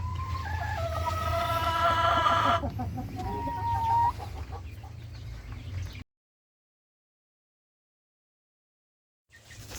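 Two-month-old KUB village chickens cluck and chirp busily in a group over steady background noise, then the sound cuts to silence before returning briefly at the end.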